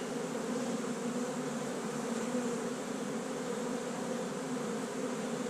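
Honeybees buzz as a dense, steady swarm hum at a hive during a January inspection in South Carolina, loud and continuous throughout with no pauses and no talking.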